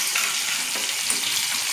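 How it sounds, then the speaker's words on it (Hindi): Dry chili and onion frying in hot oil, a dense continuous sizzle that stays loud and close throughout, with no talking. "पहले तेल में थोड़ा सा जो ड्राई चिली होता है वो दे दिया, उसके बाद प्याज दे दिया।"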